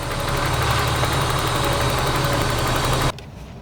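A BMW M3 engine left abandoned for four years runs loud and rough, a dense, steady roar with a rapid throb that holds without letup, then cuts off abruptly near the end.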